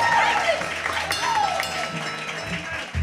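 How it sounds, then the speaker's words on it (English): Audience applause at a Christmas concert, a steady wash of clapping filling the room from start to finish, with traces of voices mixed in before it cuts off abruptly near the end. "So big round of applause for Mr."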